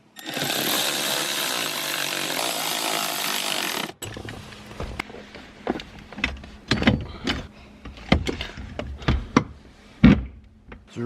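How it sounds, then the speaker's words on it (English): Bolting a pedal assembly into a PT Cruiser GT during a manual swap: a few seconds of steady power-tool whirring, then scattered metallic clicks, knocks and taps from working the bolts by hand. "So now we can go ahead and finish bolting it in."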